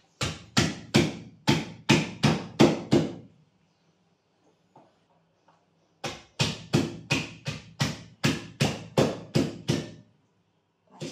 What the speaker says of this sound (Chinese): 炒虎皮青椒，我喜欢把它拍一下，拍烂点它更入味。